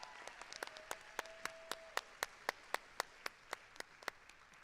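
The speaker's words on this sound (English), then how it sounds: "Let's give a round of applause to them." Sparse, faint applause from a small audience at the 47th TARA Awards, with a steady run of separate, evenly spaced claps, like a few people clapping, and a faint tone lingering in the background.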